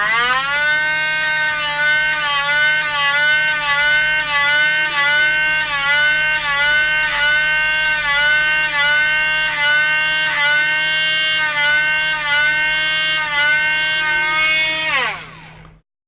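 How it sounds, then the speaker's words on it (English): A Dremel rotary tool whines at a high, steady pitch while sanding a soft rubber bolt tip for a gun bore, with slight wavering as it bites the rubber, then winds down sharply at the end; no talk. "Start the Dremel."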